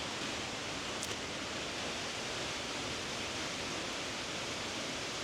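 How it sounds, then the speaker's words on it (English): Loud wind buffeting an outdoor microphone, a steady broadband roar filling the whole stretch with no let-up and no voice heard over it. "The wind is pretty loud"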